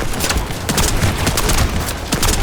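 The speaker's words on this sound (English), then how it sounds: "the guns feel great, and they're helped by the punchy sound effects" Dense, loud bursts of rapid gunfire with booming impacts from the video game The First Descendant, continuous and chaotic like a busy firefight.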